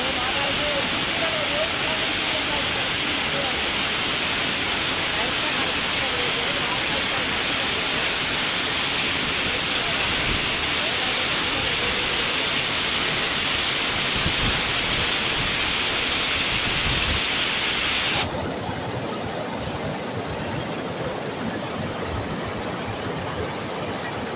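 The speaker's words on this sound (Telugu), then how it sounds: "వాటర్ అయితే చూడండి చాలా పైనుంచి అయితే పడుతుంది" Waterfall near Jamanguda in Ananthagiri, water falling from a great height, giving a steady loud broadband roar and hiss that stays constant, then drops to a duller rush near the end, with a voice talking over it.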